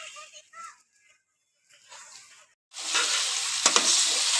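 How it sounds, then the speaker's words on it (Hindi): Minced meat (keema) frying in a pan as filling for samosas; faint indistinct voices and quiet stirring come first, then a loud, dense, close sizzle takes over and continues steadily. "ये मैं भून रही हूँ कीमा"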